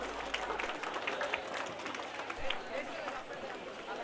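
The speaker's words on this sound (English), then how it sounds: "I request all of you to please give standing ovation for our chief guest once again." A standing ovation for the chief guest at a college festival event, a steady wash of clapping from a large audience with crowd noise and voices mixed in throughout.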